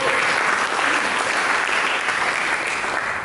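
A church congregation gives a round of applause during a Sunday sermon, a full, continuous patter of many hands clapping at once that stays strong and even throughout.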